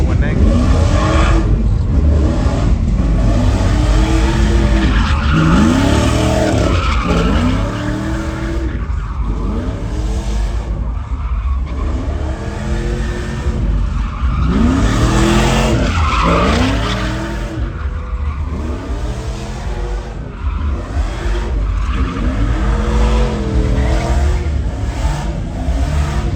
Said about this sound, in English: You can barely hear his supercharger.